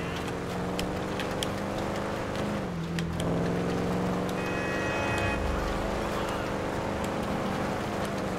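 A rear-wheel-drive car's engine in GTA Online drones steadily close by, the pitch dipping briefly then climbing as it revs, loud and continuous throughout.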